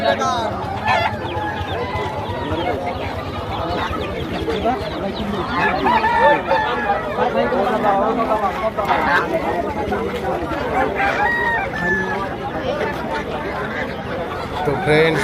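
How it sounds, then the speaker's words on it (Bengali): Chickens cluck and a rooster crows repeatedly amid a busy poultry and livestock market, with steady chatter and people talking throughout. "প্রচুর মুরগি"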